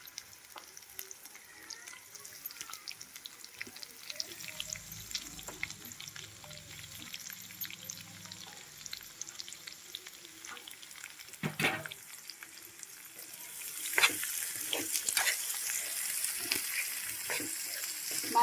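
Onions frying with cumin, chopped garlic, green chillies and curry leaves, a faint soft sizzle under occasional light stirring. Near the end it grows into a louder, brighter hiss with a few sharp clatters.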